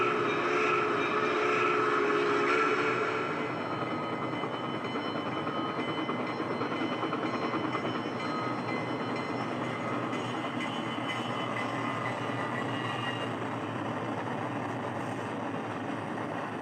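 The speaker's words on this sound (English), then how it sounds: "4449 passes an SP Autorac train, which is waiting in a siding for the excursion to pass through" Southern Pacific 4449 steam locomotive rolls past an SP Autorac train waiting in a siding: a loud, close rush of rumbling wheels and machinery at first, easing into a steady, broad rail roar that continues for the rest of the stretch.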